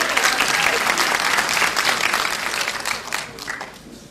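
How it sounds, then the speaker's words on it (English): Audience at a high school graduation applauding the group, dense steady clapping that fills the room and slowly thins toward the end. "Now let's give the group a nice round of applause."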